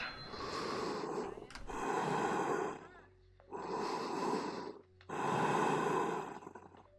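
Heavy breathing comes over a phone in the Halloween video game, four long, loud, rasping breaths in and out with short pauses between them, close and alone.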